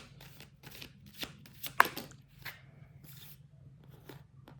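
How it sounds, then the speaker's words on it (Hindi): Tarot cards are shuffled and pulled from the deck, a string of soft, close flicks and riffling snaps with one sharper slap midway, quiet and without talk. "ओके, और कार्ड्स निकालते हैं।"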